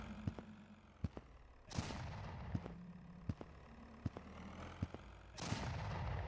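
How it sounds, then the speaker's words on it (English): An enemy fires missiles in the PS1 horror game Necrosis: sharp, close bangs at an irregular pace, broken by two heavier, longer blasts, over a low background rumble. "It's gonna shoot missiles"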